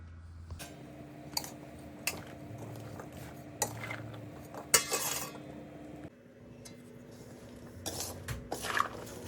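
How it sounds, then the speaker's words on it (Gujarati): Spoons and a bowl clink and scrape as turmeric and salt are mixed into chopped raw mango for a sour pickle, with scattered metallic taps and stirring against a low background hum, close and without talk. "હવે આમાં હળદર અને મીઠું નાખી દઈએ."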